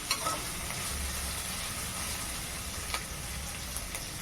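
Onions fry in a pan for paneer butter masala, a steady, close sizzle with a few faint scrapes of stirring, no talking.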